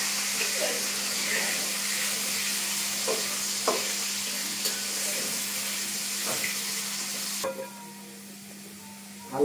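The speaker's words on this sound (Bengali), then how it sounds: "আলু ভাজা হয়ে গেছে।" Potatoes fry in a pan with a steady, moderate hiss and occasional utensil knocks under a low hum. The sizzle drops away near the end.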